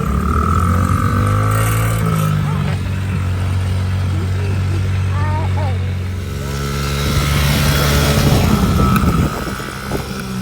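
Motorbike engine revving outdoors as the throttle is opened, a loud, close, rising and falling drone with steady rumble underneath, while people talk over it.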